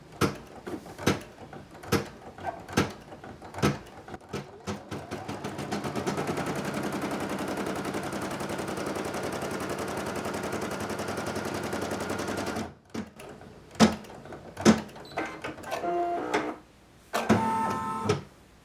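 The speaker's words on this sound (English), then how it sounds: "take this back to the embroidery machine and continue our applique" An embroidery machine stitching an applique tack-down stitch: a few sharp clicks and knocks, then a long, steady, rapid mechanical chatter of needle strokes, ending abruptly before more clunks and handling noises.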